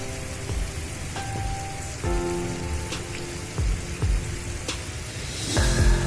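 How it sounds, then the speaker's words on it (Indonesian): Heavy rain pouring down during a storm with strong wind, a dense continuous hiss of drops drumming on nearby surfaces, punctuated by sharper, louder splats and drips close by. "Di sini kebetulan lagi hujan sangat deras."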